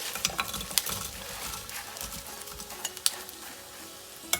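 Fried taro pieces tossed and stirred in a pan with salt and chili powder, giving a steady close scraping and rustling with a light sizzle and sharp clinks of utensil against the pan.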